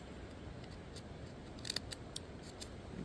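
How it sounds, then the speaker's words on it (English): A knife trimming frayed wood fibers off the end of a stick, faint soft scraping under a steady low hiss, with several sharp little cutting clicks clustered in the middle and toward the end. "I'm going to cut all of those funky looking fibers off the end there."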